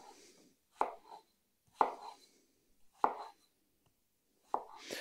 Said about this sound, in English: we're going to cut this into cubes